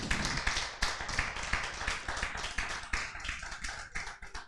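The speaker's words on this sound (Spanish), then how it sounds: "Dele un fuerte aplauso." A church congregation claps in quick, uneven rhythm, individual slaps crisp and close, steady for several seconds with no voices on top.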